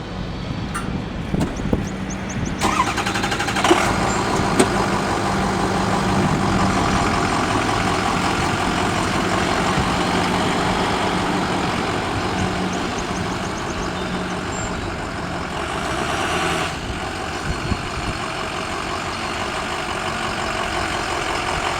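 A truck engine idles steadily while backing away from an Arctic Quik Link III snowplow, a continuous low rumble filling the scene with a few sharper clanks and bumps early on.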